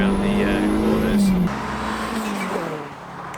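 Turbocharged car lapping Brands Hatch circuit in the wet: a loud, close engine drone with a high turbo whistle that drops off sharply as the throttle lifts, then a quieter, wavering engine note follows.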